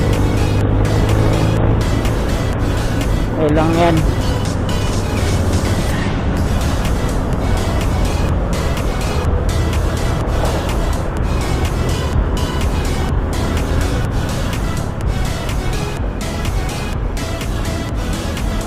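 Heavy road traffic with continuous vehicle noise and engine rumble, loud and close throughout, with a brief spoken phrase over it.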